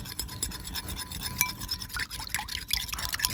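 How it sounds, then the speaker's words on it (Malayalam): An egg beaten by hand for a plant fertilizer, a quick, steady scratchy whisking of a utensil against the container, close and moderately loud, with no talking. "ഈ മുട്ടയാണെങ്കിൽ നമുക്ക് നല്ലതുപോലെ ഒന്ന് പൊട്ടിച്ച് അടിച്ചെടുക്കാമേ"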